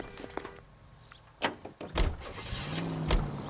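A car door slams and the engine starts and idles during a police pursuit scene in the video game L.A. Noire, with mechanical thuds and a low running engine filling the soundscape.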